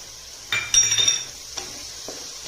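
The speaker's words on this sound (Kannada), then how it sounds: "ಮೊಸರು ಹಾಕಿಬಿಟ್ಟು ಚೆನ್ನಾಗಿ ಮಿಕ್ಸ್ ಮಾಡ್ತೀನಿ" Fried masala is stirred after yogurt is added for kuska rice, giving a soft sizzle and a few quick scraping stirs in the pan, short and close by, with no talk.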